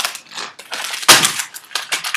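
Junk mail paper is crumpled up by hand, a close, dense run of crackling and rustling with one louder crunch midway, no voices.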